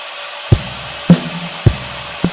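A power tool cuts a 4 mm wide groove into a wooden piece, with a steady motor whine broken by four sharp bursts as the blade bites in, roughly every half second, loud and close.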